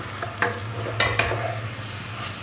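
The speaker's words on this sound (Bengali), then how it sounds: "এবার চিকেনের টুকরোগুলো সসের মধ্যে দিয়ে ভালো করে চিকেনটাকে মিশিয়ে নেবো" Chicken pieces mixed into sauce in a pan for a chicken starter give a steady close sizzle under a low hum, punctuated by a few distinct spoon knocks and scrapes over a brief moment.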